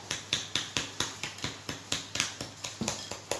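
Sugar being beaten with other ingredients in a bowl for chocolate-chip panettone dough, about a dozen quick, evenly spaced strokes tapping against the bowl in a brisk rhythm, close and fairly quiet.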